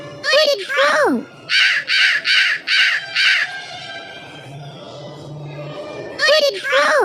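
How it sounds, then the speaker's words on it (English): A hooded crow caws about five times in a quick, even series of harsh, raspy calls, close and loud, with brief vocal sounds before and after. "Hooded crow."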